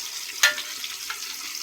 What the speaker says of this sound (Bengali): প্রথমে তেলের ভিতরে ইলিশ মাছগুলো দিয়ে দেওয়া।